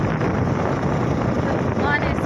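Storm wind with rain rushes in a dense, steady roar, loud and close throughout with gusty buffeting across the microphone and no pause.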